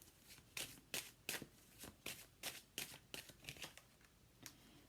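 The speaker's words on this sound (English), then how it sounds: "Let me just bring in a card for this." Tarot cards being shuffled by hand before a card is drawn, a quick series of soft riffling bursts in an uneven rhythm, close and fairly quiet, with no talking.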